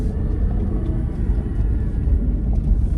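A 2003 Volkswagen Eurovan VR6 van with a converted five-speed manual drives through a neighborhood, its engine and road noise forming a steady, heavy low rumble heard from inside the cabin.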